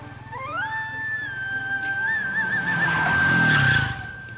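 A car's tyres squeal in a skid, a sustained high-pitched screech that wavers briefly and swells toward the end. It is heard alone, without talking.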